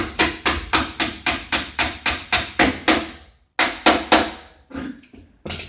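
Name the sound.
hammering a door pin in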